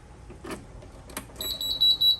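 A few soft clicks and thumps, then a high electronic beep from a Pride Maxima three-wheel mobility scooter begins and repeats in short, steady tones near the microphone.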